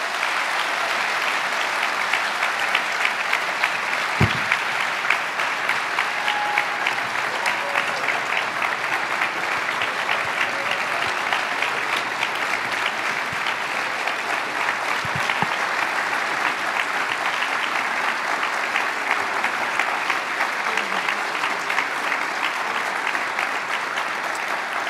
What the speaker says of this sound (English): I would really love it if everybody would join me in giving them a round of applause.